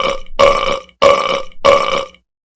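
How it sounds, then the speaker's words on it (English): Four loud, drawn-out burps close to the listener, each lasting about half a second with brief gaps, set in a living room at Christmas, no talking. "You're stinking up the living room with your burps."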